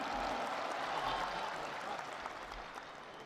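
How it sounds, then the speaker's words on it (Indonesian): Applause from the audience at a Golkar party gathering fills the hall as a dense, steady wash of clapping that stays loud throughout and fades only slightly near the end. "Kita berikan tepuk tangan untuk itu."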